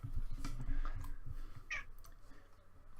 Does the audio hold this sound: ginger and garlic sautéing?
no